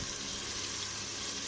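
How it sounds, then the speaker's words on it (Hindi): Water poured into a pot of chicken and chickpea curry as it cooks, a steady broadband hiss and gush of liquid lasting the whole brief moment with no talk. "ये पानी हमने डाल लिया।"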